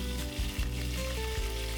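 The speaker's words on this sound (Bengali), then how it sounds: "এখন নুন হলুদ মাখানো মাছগুলো তেলে ভাজবো।" Fish coated in turmeric and salt frying in hot oil in a wok for a traditional Bengali fish curry, giving a steady, close sizzle and crackle throughout with no talk.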